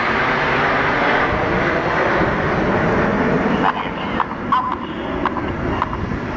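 Red Arrows jets fly past in Typhoon formation at a Bournemouth air display, a loud, continuous broadband jet roar that holds strong, then thins and fades slightly toward the end.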